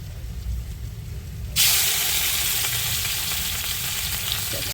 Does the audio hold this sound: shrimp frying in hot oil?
yes